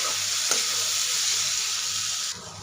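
Chopped onion and tomato sizzling in a pan for egg bhurji: a steady, loud frying hiss throughout with a brief stir clatter, easing slightly near the end, no talk.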